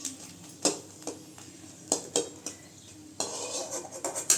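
Curry leaves and chillies roast in a dry pan, heard mostly as sharp metal spatula clinks and scrapes against the pan in an uneven rhythm, fairly close and moderately loud, with little sizzle and no voices.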